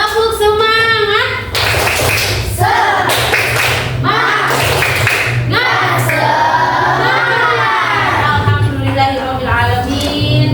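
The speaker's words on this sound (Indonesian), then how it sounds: "Oke, tepuk semangat." A school class performs a rhythmic spirit-clap routine during an Indonesian lesson, loud patterned claps and thumps mixed with voices chanting along throughout.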